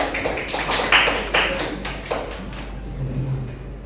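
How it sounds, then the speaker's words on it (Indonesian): Classroom applause for a student group, a short burst of scattered, fairly close hand claps with uneven rhythm that thins out and fades after a few seconds. "Tepuk tangan untuk kelompok 5"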